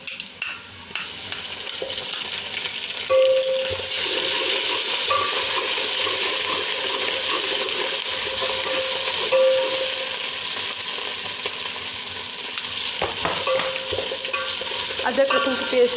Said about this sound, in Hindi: अदरक लहसुन के पेस्ट को जो है हम फ्राई करेंगे